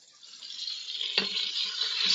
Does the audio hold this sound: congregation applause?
no